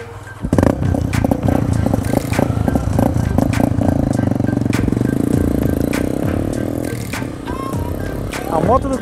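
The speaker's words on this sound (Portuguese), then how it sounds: "A moto do cara pegou agora" A motorcycle engine sputters and catches, running with a rough, loud idle and some clattering, close by.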